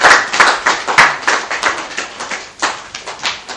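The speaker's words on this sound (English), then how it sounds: "A round of applause for her." Audience applause for a woman who has just finished presenting her map at a game-show event, a steady patter of many hands clapping nearby, swelling and dipping over a few seconds.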